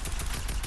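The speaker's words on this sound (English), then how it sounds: "Gunshots on me, boys." Rapid automatic gunfire in the Fortnite video game, a loud continuous burst of shots fired in quick succession, close by, with no voices over it.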